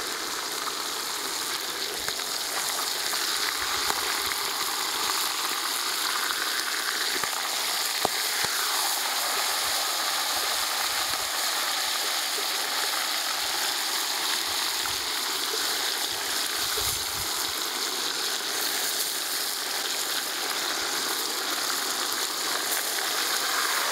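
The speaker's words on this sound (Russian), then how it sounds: "Ну и сейчас засыпаем лук" Chopped onions fry in a new 12-litre cast kazan with potatoes, giving a steady, dense sizzle and crackle that runs unbroken and fairly loud throughout, with occasional faint scraping clicks.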